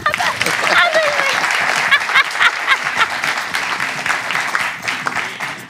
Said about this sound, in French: Et donc, oui, applaudis.